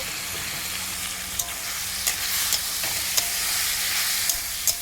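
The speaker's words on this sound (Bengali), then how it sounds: "এবার ভালো করে নাড়াচাড়া করে নেব" Spices and sugar frying in a pan sizzle steadily while a utensil scrapes and clicks against the pan at irregular intervals, close and unaccompanied by talk.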